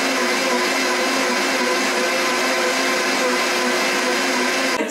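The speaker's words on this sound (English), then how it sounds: "we're gonna pulverize that again into a nice powder" A blender grinding nutritional yeast into powder, a loud, steady, close motor roar and whir running continuously and ending abruptly.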